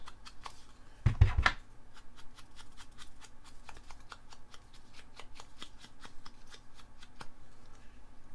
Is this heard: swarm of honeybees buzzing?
no